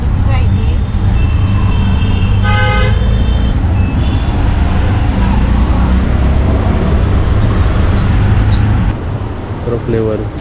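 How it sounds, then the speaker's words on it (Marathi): Heavy road traffic rumbles loudly and continuously, with car horns honking in short bursts near the start, the middle and the end. "ट्रॅफिक बघितलं किती आहे?"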